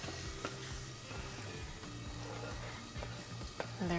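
Eggs frying lightly in a pan give a steady, close sizzle that runs the whole time, with a few soft clinks and scrapes and a brief rise in noise near the end.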